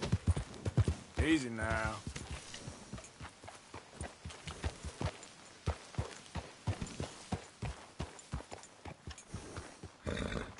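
Horse hooves clip-clopping in Red Dead Redemption 2, a rhythmic run of hoof beats under a voice, with a short whinny near the start and game sounds around it.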